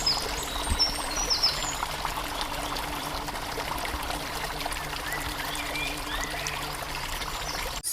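Water pouring and trickling as cartoon friends bathe, a continuous soft stream with light splashes at moderate level and faint chirps in the background.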